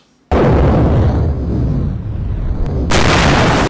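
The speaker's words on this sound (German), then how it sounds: "dass ich den Mond zur Explosion gebracht habe" A huge explosion as the moon is destroyed by a laser: an abrupt, loud, roaring blast with deep rumbling body that sustains, then a second sharp burst near the end before cutting off.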